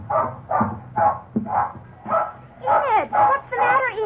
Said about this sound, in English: You can understand our big surprise when suddenly Enid began barking wildly